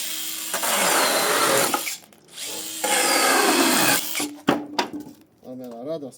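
A Procraft PKA32Li cordless saw cuts through dry pallet wood in two long, loud, rasping bursts, followed by shorter stuttering cuts, with a brief voice at the end.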